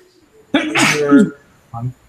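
A single sharp sneeze bursts out close by, followed by a short voiced murmur.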